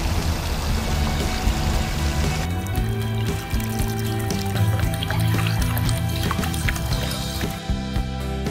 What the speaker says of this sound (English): Drinking water.